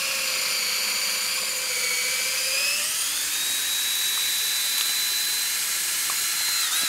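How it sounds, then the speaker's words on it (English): A power drill boring a tap hole into a maple tree whines steadily at a high pitch, close by. The tone dips slightly partway through, then holds a long, even drone. "you want to keep the drill bit spinning to try to extract as much sawdust as possible"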